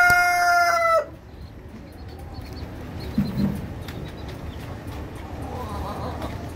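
The final second of a Brahma rooster's crow ends abruptly at the start, followed by a quiet farmyard with faint scattered clucks and rustling.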